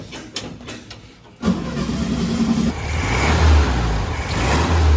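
A 1967 VW Beetle engine with a varnish-filled carburetor cranks with a few ticking turns, catches loudly, then idles and revs steadily with a rough, rumbling tone.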